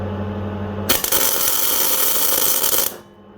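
A Murex welder wire feed motor on setting 6 starts after a low hum and runs for about two seconds with a loud, steady, close whirring buzz, then cuts off.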